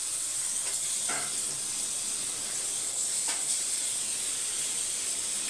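Paneer pieces frying in a little hot oil, a steady soft hiss and sizzle with a few faint clicks, fairly quiet and continuous with no talk.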